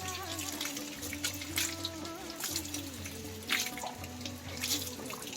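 Water pours steadily at a village spring built like a stepwell in Nesang, a constant close splashing flow with a low steady hum beneath it.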